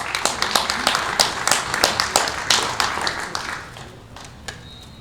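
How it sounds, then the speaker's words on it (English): An audience at a homeownership summit applauds a prize winner, Maria, with a dense burst of clapping that starts loud and close, then thins out and fades toward the end. "let's give Maria a big round of applause for winning"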